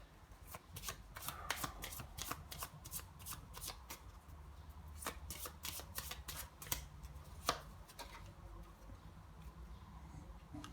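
Tarot cards are shuffled for a reading in repeated quick riffling bursts, crisp and close, with brief pauses between rounds and no talk.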